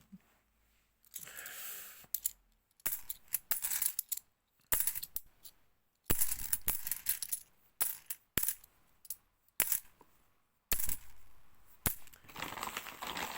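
£2 coins clatter and clink in bursts as they are handled and dropped, sharp metallic jingles separated by brief silences, close and fairly loud.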